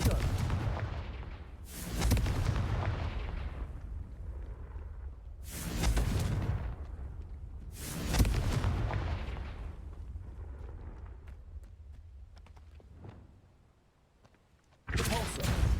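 Confringo fire spells go off in the video game Hogwarts Legacy, producing a series of booming explosive blasts with rumbling tails. Four or five bursts come at irregular intervals and the last one hits after a short lull.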